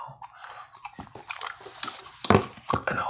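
Close, moist gum chewing in a quiet whispered ASMR setting, irregular squelching bites and small crunchy clicks, alone and intimate.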